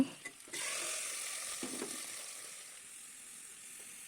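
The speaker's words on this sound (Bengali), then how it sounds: "এখন আমি খিচুড়িটা বাগার দিয়ে দেবো" Hot oil poured over nearly cooked khichuri for tempering bursts into a loud hissing sizzle that slowly fades into a softer fry, with a couple of light knocks.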